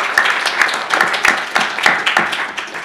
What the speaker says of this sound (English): applause to you for your voyage